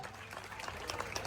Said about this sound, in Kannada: ಒಂದ್ಸರಿ ಜೋರಾದ ಚಪ್ಪಾಳೆ